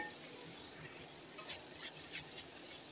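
Chopped boiled figs being sautéed in a pan, a soft, steady sizzle with light stirring scrapes and occasional patters, quiet and without voices.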